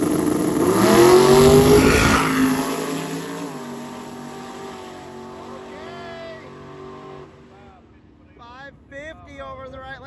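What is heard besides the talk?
66 Chevelle and turbocharged El Camino drag racing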